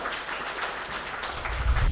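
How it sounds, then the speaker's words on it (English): A graduation ceremony audience claps for the feature speaker, a soft, even wash of many hands somewhat distant in a large hall, continuous throughout with a low thump near the end. "Let's give him a round of applause."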